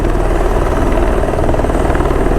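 Steady, loud rotor and engine roar of a helicopter hovering nearby at a heli-skiing resort, a continuous low thrum with no voices.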